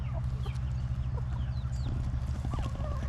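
On a farm, a rooster and hens cluck and chatter close by over a constant low hum, with overlapping calls of varied pitch throughout.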